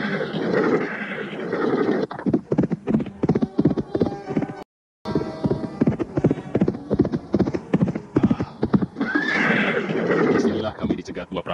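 Several horses carry riders away from a village, hooves clip-clopping steadily with loud neighing and whinnies mixed into a dense, continuous soundscape over about twelve seconds, with a brief dropout midway.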